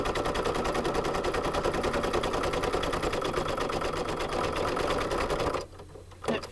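An embroidery machine stitches an appliqué flower leaf on an in-the-hoop coaster, giving a loud, steady, rapid needle buzz that runs continuously and then stops abruptly near the end.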